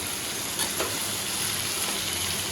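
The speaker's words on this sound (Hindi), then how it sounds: "मैं डाल दिए हैं साबूदाने, अब अच्छे से इनको कर लेते हैं मिक्स" Sabudana sizzles steadily in an old small kadhai, a dense hiss of frying with faint stirring scrapes running through it.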